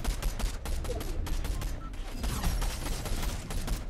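Gunfire in Fortnite coming as rapid, dense bursts of sharp shots in fast succession, moderately loud and sustained, with no talk over it.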